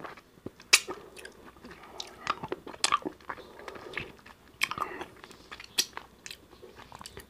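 A strawberry caramel ice cream pop is bitten and chewed up close, with sharp crunchy snaps and wet chewing in an uneven rhythm, loud and without talk.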